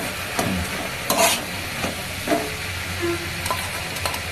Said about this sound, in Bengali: এবারে একটু আদা জিরে বাটা দিচ্ছি